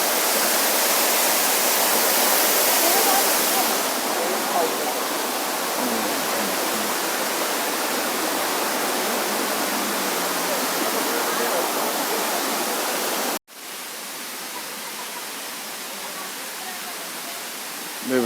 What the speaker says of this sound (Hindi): रामोजी फिल्म सिटी के अंदर वाटरफॉल